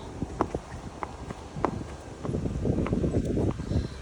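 A cob horse's hooves clip-clop at a quick, steady walking pace on hard ground, with rustling and outdoor noise building toward the end.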